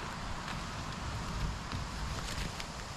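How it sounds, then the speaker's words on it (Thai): Strong wind blows steadily outdoors while mushrooms are gathered in the forest, a constant low rumbling roar of gusts buffeting the microphone with faint rustling on top, no voices. "ลมก็แรง"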